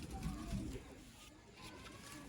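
A pet pigeon coos softly in low, throaty pulses near the start, with faint background murmur and room noise behind it.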